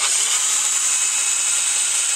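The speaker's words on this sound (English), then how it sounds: "We drill our hole." A power drill bores a hole in a car body while installing a cold air induction on an XR6 Turbo, whining steadily at high speed, loud and close, running continuously without pause or speech.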